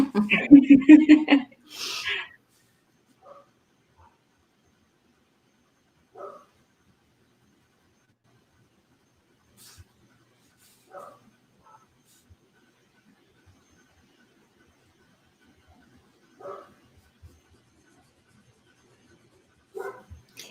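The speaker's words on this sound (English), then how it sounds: "my dogs are, I don't know if you can hear them, but they're also saying hello" A few dogs bark close by in a quick burst at the start, followed by scattered, faint single yips and huffs spread across long quiet gaps.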